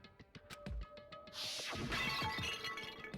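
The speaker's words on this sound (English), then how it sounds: "I grabbed the Monokuma bottle from the shelf and smashed it across her head." Glass bottle shaped like Monokuma shattering in the video game Danganronpa: a loud, sudden crash about midway, followed by a spray of tinkling shards, with quieter clicks and thuds before it.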